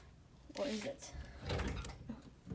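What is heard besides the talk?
old dorm closet door noise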